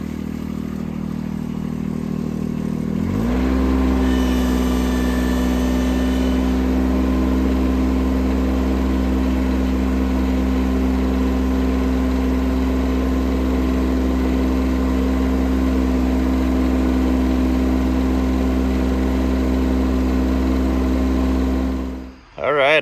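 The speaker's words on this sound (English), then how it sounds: "I have to pull it out with the tractor" A tractor engine starts with a rising roar, then settles into a steady, loud idle that drones on for many seconds before cutting off abruptly at the end; the tractor is about to pull an old bulldozer out.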